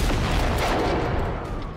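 Gunfire aimed at a tank in the game Generation Zero, a dense loud barrage of overlapping shots and booms forming a continuous roar that eases slightly toward the end.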